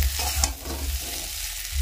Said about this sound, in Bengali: আমার গুঁড়ো মশলা ছিল সব কিছু দিয়ে সুন্দরভাবে কষিয়ে নিচ্ছি।